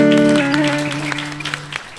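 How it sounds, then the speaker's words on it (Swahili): A church congregation claps during a service, scattered hand claps sounding over a sustained keyboard chord that holds for about two seconds. "jipigie makofi"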